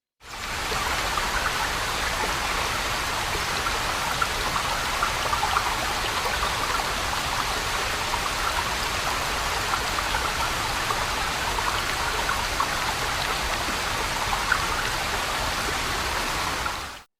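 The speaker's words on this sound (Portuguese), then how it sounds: "Contemple a natureza e ouça a água." Flowing water at the Cachoeira da Chave waterfall in Votorantim, Brazil, a steady, dense rush that holds the same level throughout with no talk.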